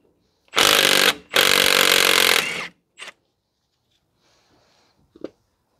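A power tool spins off the axle nut on a 2016 Ford F-150 3.5 V6 4x4 during a wheel bearing replacement, with two loud close bursts and then a short third one, followed by faint clicks.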